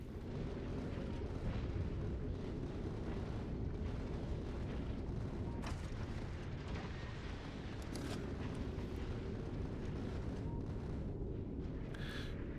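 Turrets firing in the Factorio Space Age video game on a deathworld map, a dense, continuous barrage of booming bursts running steadily throughout with no talking.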